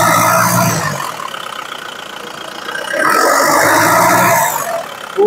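Used car engine idling at a car dealer's lot, a steady mid-pitched hum that swells louder at the start and again near the end, with no talking.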